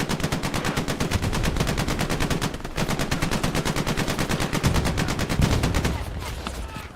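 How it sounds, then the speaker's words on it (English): Machine gun fired from a half-track's mounted MG in the Hell Let Loose video game: loud, sustained rapid-fire bursts rattle almost nonstop, with a brief gap before the firing fades near the end. "even have the half track here with Philip in the half track shooting the MG."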